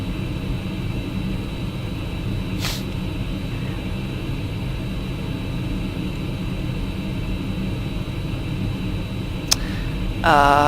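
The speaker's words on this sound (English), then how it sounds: "We start engine 1." Engine 1 of an Airbus A320 starting up in the FSLabs flight simulator, a steady whining, roaring hum inside the cockpit with a couple of faint clicks and a rising tone at the end.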